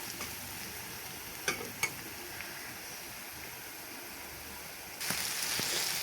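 Lentils for dal bhuna frying with onions in a pan: a quiet, steady sizzle with a couple of sharp spoon clinks from stirring and a louder burst of sizzling near the end.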